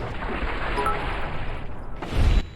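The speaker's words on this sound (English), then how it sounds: "Why are you shooting?" Loud gunfire bursts and a heavy boom ring out in Fallout New Vegas, a sustained rumble of shots swelling to a strong blast near the end.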